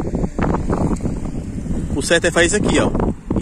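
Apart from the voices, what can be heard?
strong wind blowing into microphone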